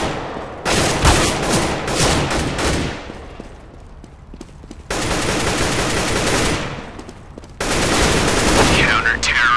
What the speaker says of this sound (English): Hey, who's shooting?